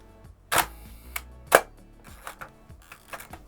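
A Hasselblad 40mm lens leaf shutter fires: two crisp mechanical clicks about a second apart, followed by several softer, fainter clicks in a quiet room.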